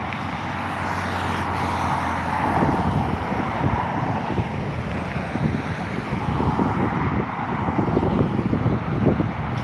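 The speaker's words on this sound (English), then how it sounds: "Taking off now is the United flight to Newark, indeed. There it is, the 757." United Boeing 757 taking off at Dublin Airport, a steady broad jet roar filling the whole stretch at moderate distance, blended with wind buffeting on the microphone.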